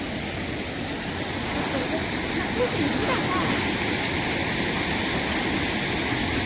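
Flood water pours through a village during heavy rain, making a steady, loud rushing roar like a waterfall that continues unbroken from start to finish.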